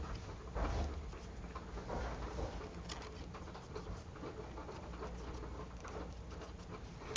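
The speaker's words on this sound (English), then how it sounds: "It's raining here too," Rain patters steadily outside, a soft, continuous wash of drops heard from indoors, with occasional faint bird-like coos mixed in.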